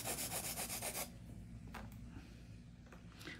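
A 160 grit Chisel file rubbing across an acrylic nail, quick rhythmic back-and-forth rasping strokes for about a second, then softer intermittent scrapes, close and without speech.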